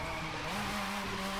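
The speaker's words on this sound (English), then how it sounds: "drifting on this game is pretty simple" A car drifting in the video game The Crew 2, a sustained loud tire squeal over a steady engine drone, close and continuous for the whole short stretch.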